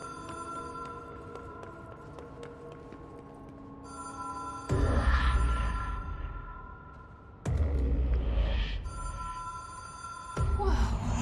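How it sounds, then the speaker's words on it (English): Telephone ringing in the video game Control, a steady electronic ring with sustained tones over a low hum, broken up by louder bursts of game noise. "Coming, phone!"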